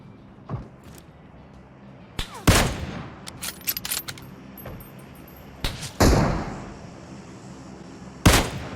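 Sharp, loud single gunshots ring out from a sniper fight on a bridge in PUBG Mobile, spaced irregularly with a few softer clicks and shots in between over quiet background.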